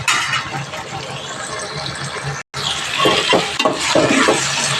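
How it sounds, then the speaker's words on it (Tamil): Tomatoes sautéing in a pan for a spicy okra curry, a steady close sizzle with stirring scrapes that briefly cut out, then return with a few utensil knocks. Faint voice-like sounds sit under the frying. "கொஞ்சம் தக்காளி கொஞ்சம் நல்லா வதங்கட்டும்"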